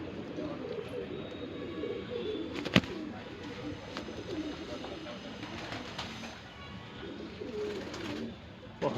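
Shahjahanpuri breed pigeons, including a female, coo in a loft in Shahjahanpur, Uttar Pradesh: a low, continuous rumbling murmur of several birds close by, with an occasional sharp click.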